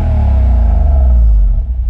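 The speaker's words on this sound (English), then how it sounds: "So this thing is a VK56. Very good engine." A Nissan VK56 V8 engine in a Y62 rumbles steadily with a deep, throaty low end, holding a strong, even roar for a couple of seconds before easing slightly.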